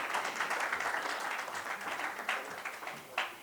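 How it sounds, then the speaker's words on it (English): An audience applauds at a foundation conference session as a co-founder is welcomed, a fairly soft, steady wash of clapping with a few louder claps near the end. "Let's give a huge round of applause"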